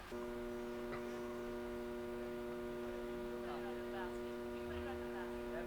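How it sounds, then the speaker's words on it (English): Steady electrical hum from a transformer box beside a green on a disc golf course during a women's team championship, a constant tonal drone with layered overtones that holds unchanged throughout. "Hear the humming of the transformer box right by the green here."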